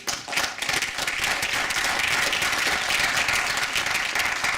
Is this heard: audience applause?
yes